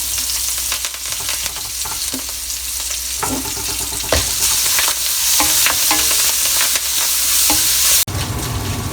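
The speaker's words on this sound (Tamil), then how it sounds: "எல்லாத்தையும் தாளிச்சிட்டேன்," Curry leaves, green chili, ginger and coriander tempering in hot oil for lemon rice, a loud steady sizzle with frequent spatula scrapes and clinks against the pan, ending in a sudden knock.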